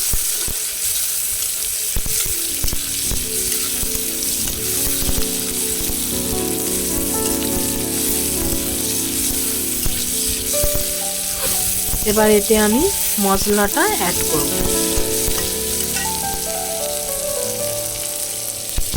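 Onions fry in a pan of hot oil for a home-cooked lunch, crackling and sizzling steadily up close, with stirring noises and a person talking over it.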